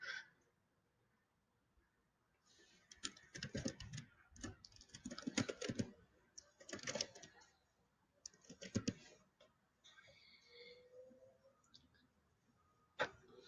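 Typing on a computer keyboard comes in short bursts of quick, close key clicks separated by pauses, with a faint voice briefly under it.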